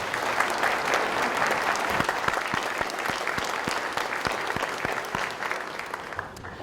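Audience applause at a university convocation honoring newly tenured faculty, a steady roar of many hands with a few louder individual claps standing out and a slight easing near the end.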